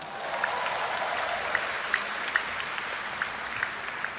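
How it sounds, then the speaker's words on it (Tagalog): Audience at a religious healing service clapping together in a dense, even patter, with a few sharper individual claps popping out at irregular moments and no speech over it. "Malakas kung pumalakpak."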